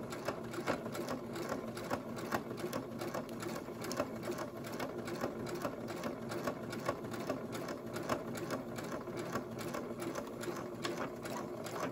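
A domestic sewing machine stitches fabric with a presser foot fitted, its needle running in a steady, rapid mechanical rhythm that stays close and even from start to finish, with no talking.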